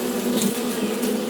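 Honey bees from a fallen hive buzz in a dense, steady drone, close and loud, with a few sharper individual wingbeats rising over the swarm.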